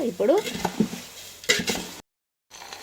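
Poha tempering is mixed in a pan with a spoon, producing brief clinks and scrapes of metal on the pan, with a voice speaking at the start.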